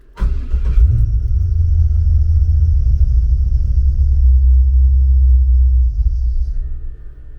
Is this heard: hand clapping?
no